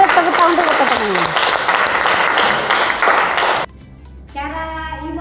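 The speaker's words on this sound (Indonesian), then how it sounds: "Kita beri tepuk tangan dulu teman-teman." A school class applauds after a presentation, with a dense burst of clapping that cuts off abruptly, followed by a short, quieter stretch with tonal sounds.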